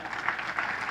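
Congregation in a church service applauding after a call to clap for the Lord, a steady, fairly soft wash of clapping that holds evenly for a short moment with no voices.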